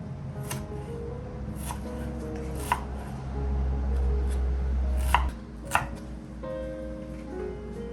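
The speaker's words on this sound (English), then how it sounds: "so here I'll finely chop the onion" A knife finely chopping an onion on a cutting board gives close, crisp, irregular taps, a few sharper thuds standing out over a low background hum.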